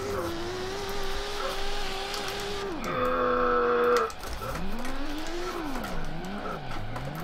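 A race car in the Assetto Corsa video game is drifted around a corner: a loud, close engine note rises and falls with sharp shifts, with tire-squeal skidding mixed in under the engine, and no talking.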